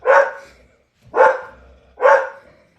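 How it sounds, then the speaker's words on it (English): A pet dog named Champ barks at the mail carrier at home: three loud, close, evenly spaced barks roughly a second apart, each with a short ringing tail, no talking in between. "Bad dog."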